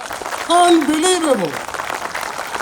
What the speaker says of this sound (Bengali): ও মাই গড, ভলান্টিয়ার জন্য সিরিয়াস তালি হওয়া উচিত